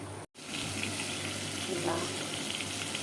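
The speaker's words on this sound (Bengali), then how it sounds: "টুকরা মাছ দিয়ে দিচ্ছি, এগুলো ভালো করে কষিয়ে নিব।" Pieces of fish frying in a pan, giving a steady close sizzle and hiss that carries on almost unbroken after a brief dropout near the start, with no talking.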